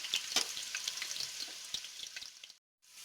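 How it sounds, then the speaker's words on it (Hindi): A medium chopped onion fries in oil in a pan for Kashmiri-style methi chicken, giving a dense, steady crackling sizzle close by that cuts out abruptly near the end before resuming faintly. "अब मैं इस आधे ऑयल में एक मीडियम कटा हुआ ओनियन फ्राई करूंगी"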